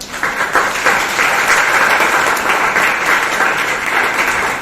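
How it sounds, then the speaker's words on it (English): Audience applause for the judges at a school elocution competition: steady, dense clapping from many hands, loud and close, sustained without pause for nearly five seconds. "Students, give a big round of applause to our judges."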